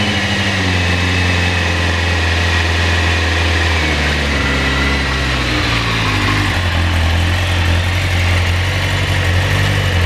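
Carburetted Suzuki GSXR 750V motorcycle engine with freshly cleaned carburettors idling on partial choke, a loud, close, steady low rumble that wavers slightly in pitch, with no speech.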